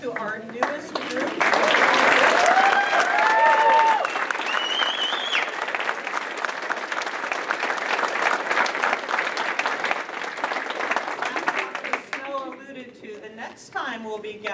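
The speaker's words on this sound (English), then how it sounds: "join me in giving a round of applause to our newest group" Warm applause from the audience at an intern pinning ceremony swells quickly, holds steady for about ten seconds, then tapers off as a voice starts speaking.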